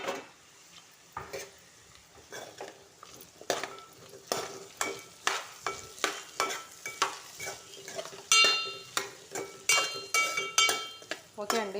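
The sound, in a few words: stirring potato pieces frying in pan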